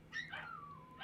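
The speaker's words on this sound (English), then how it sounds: "So my apologies for the barking in the background." A dog gives a short, high whining yip and whimper from a room away, a rising cry that slides downward, then starts again at the end with no talk over it.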